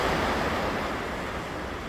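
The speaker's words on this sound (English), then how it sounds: "the sound of the ocean. It's just so therapeutic and so relaxing." Ocean waves make a steady broadband wash of surf, with a continuous roar and no distinct breaks across the short stretch.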